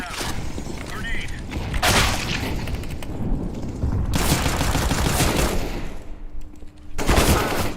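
Grenade blast amid rapid gunfire in a competitive first-person shooter match, loud bursts of automatic fire and heavy booms recurring throughout, with voices shouting over the combat.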